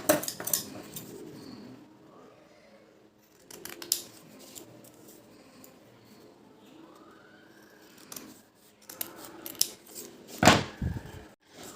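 Scissors snip through a fabric piece for a salwar in a few separate bursts of close, crisp cutting, with quiet pauses between the runs of snips.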